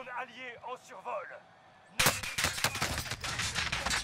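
Gunfire from above in Warzone Pacific: after a brief stretch of talk, a sudden burst of rapid, sharp shots erupts and keeps cracking in quick succession, close and loud.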